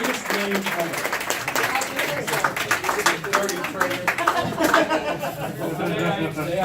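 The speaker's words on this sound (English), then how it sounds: "Everyone, applaud for Mark." An audience applauds for a person introduced on stage at a gaming convention panel, a burst of scattered clapping mixed with crowd chatter and a voice talking over it.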